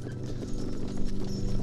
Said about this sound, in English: Get my horse